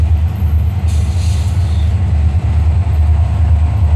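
FEC 704, an ex-Union Pacific freight locomotive pulling a rock train, passes close by at Hypoluxo siding with a loud, constant low rumble and steady rolling of heavy wagons.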